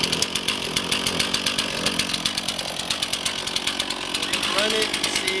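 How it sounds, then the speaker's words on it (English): Chainsaw running steadily after a start with the chain brake on. A loud, close, continuous buzzing engine drone with a rhythmic chain rattle fills the whole stretch. "So we'll start it with our chain brake on, secure the saw"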